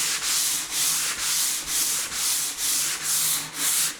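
A hand sanding pad rubs along the edge of a door in short, even back-and-forth strokes, about eight passes. The scratchy rasp is close and clear, with no talking.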